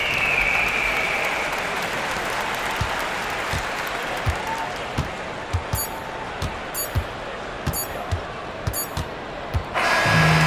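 Crowd noise in an NBA2K25 basketball game featuring the Hawks: a broad roar of cheering and applause fades, then a ball bounces repeatedly in a steady rhythm on the court, with more crowd noise at the end.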